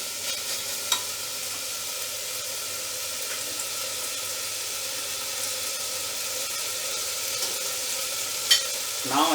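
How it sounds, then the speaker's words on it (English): Ingredients for a quinoa, lentil and brown rice pulao frying in a pan over high heat, a soft steady sizzle and hiss with a couple of faint clinks from stirring, fairly quiet and without talk. "I am going to raise the heat, put it on the high, fry it for a few minutes"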